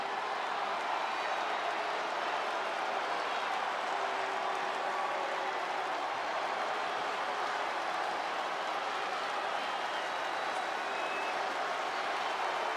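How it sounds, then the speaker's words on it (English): Arena crowd in a WWE SmackDown women's Elimination Chamber match simulation, a steady broad roar of cheering and applause that holds at an even level from start to finish with no single voice standing out. "And what about this crowd reaction,"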